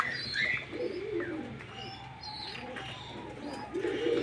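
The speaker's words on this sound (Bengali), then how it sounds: "হেভি সাইজে বড় আছে পায়রাগুলো।" Large pigeons in a loft coo in low, throaty bursts close by, with scattered chirps and faint wing rustles between calls.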